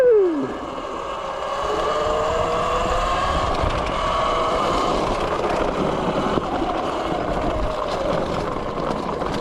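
An E Ride Pro S 17 electric dirt bike riding, a continuous whining motor tone that rises and shifts in pitch, mixed with rushing wind and tire noise, loud and close throughout.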